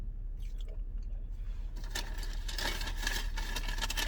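Close, crunchy chewing of a Wendy's breakfast chicken biscuit, with quiet mouth sounds giving way to louder, continuous crisp crunching.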